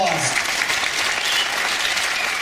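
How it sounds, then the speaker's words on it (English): Audience applause for award winners at the A-TOM-IK Invitational awards presentation, a dense, steady wash of many hands clapping close by for the full stretch without pause. "Give them a round of applause."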